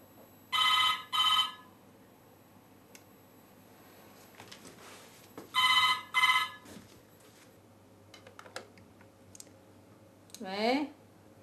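A telephone rings indoors at night: two short double bursts of ringing, one near the start and one mid-clip, with a few clicks and brief rising tones between and after them.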